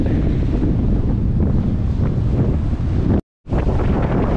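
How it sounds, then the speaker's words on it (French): Wind of about 15 knots buffeting a microphone aboard a sailboat, a loud continuous roar with a brief cutout near the end before it resumes. "On approche des 15 nœuds de vent."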